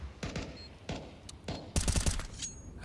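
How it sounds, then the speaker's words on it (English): Counter-Strike gunfire from a professional esports match: a series of sharp, rapid gunshots in short bursts, building to a denser volley near the end, fairly close and punchy. "Some sharp shooting from Slacks"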